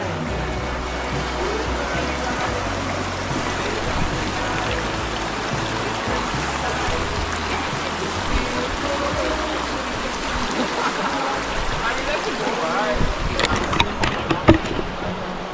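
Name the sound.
flowing mountain stream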